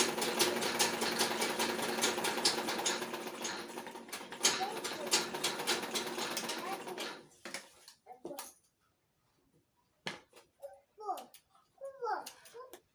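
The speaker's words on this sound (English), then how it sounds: "So you sew it straight downwards." Sewing machine stitching a straight seam downward on a wrap peplum blouse, a fast steady whirring stitch for about seven seconds, then it stops and a few short handling sounds and soft speech follow.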